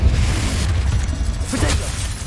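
A Confringo spell explodes in the Hogwarts Legacy video game, a dense, loud, rumbling boom with crackling bursts that fills the short stretch without a break.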